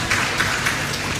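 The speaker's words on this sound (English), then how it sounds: "Please, a round of applause for John." A conference audience applauds John with a dense, even patter of many hands, moderately loud and steady across the room, with no talking over it.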